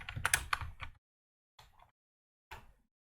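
Typing on a computer keyboard to enter a Java SDK search in a web browser. Three close bursts of quick keystrokes, with a longer flurry first and two short clusters after pauses, in a quiet room.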